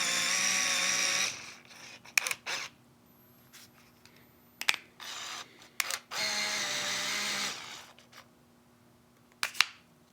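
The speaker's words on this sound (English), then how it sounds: "I also love the sound that it makes when, you know, you're opening it and the lens is opening, and also when the lens is retracting." An Olympus Stylus Zoom point-and-shoot camera whirs its motorized lens out and back in, with two longer buzzing zoom motor runs and several sharp clicks between them, close and quiet with no talking.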